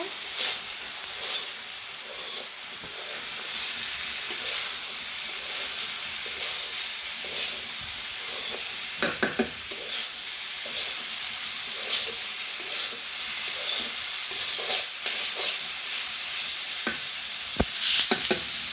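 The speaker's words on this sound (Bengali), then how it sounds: "আবার একটু নেড়ে মিশিয়ে নেব।" Vegetable bhaji fries in a hot pan with a constant hissing sizzle, while a spatula stirs and scrapes through it in irregular strokes, with a few sharper clatters near the end.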